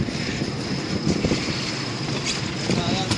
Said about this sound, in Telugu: ఇంజిన్ సౌండ్ వస్తుందో చూసేయండి